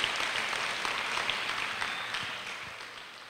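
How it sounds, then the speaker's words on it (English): Steady applause from a school audience for a speaker, a dense wash of clapping that stays fairly even and slowly fades a little, without voices. "could you all give him a hearty round of applause"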